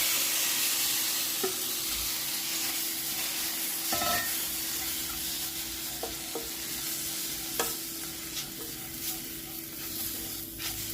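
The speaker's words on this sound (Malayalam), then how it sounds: "ഇനി തക്കാളിയൊക്കെ ചേർത്ത് നന്നായിട്ട് വഴറ്റിയെടുക്കാം." Chopped tomato with garam masala is sautéed in a pan, a constant close frying hiss broken by scattered clicks and scrapes of a spoon stirring against the pan; no talking.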